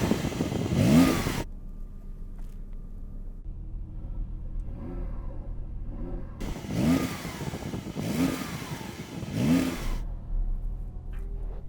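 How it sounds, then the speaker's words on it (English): A Porsche 911 Turbo S engine revs while stationary in several sharp bursts, rising and falling in pitch with short pauses, loud and close by. "Let's hear the Porsche, or try to, because that'll sound rubbish as well."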